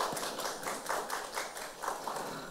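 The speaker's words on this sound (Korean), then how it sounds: "박수로 맞이해 주시기 바라겠습니다" Audience applause welcoming a speaker at a university living-lab seminar, steady clapping from a modest crowd, fairly faint and continuous throughout.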